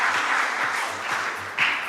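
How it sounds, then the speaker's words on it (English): Audience clapping hands at an MBA and BBA inauguration ceremony, a dense continuous patter of many hands, steady and fairly loud with a slight swell near the end. "Clapping hands"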